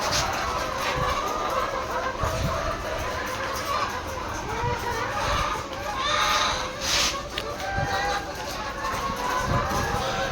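Hens cluck and murmur softly in their coop amid steady rustling and scraping as it is cleaned, with a voice talking now and then in the background.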